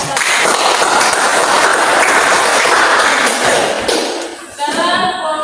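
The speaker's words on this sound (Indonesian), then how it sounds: "Oke, beri tepuk tangan untuk kelompok 1." A classroom group claps for a group of students, a dense and loud burst of applause that fades toward the end, where a voice begins to speak.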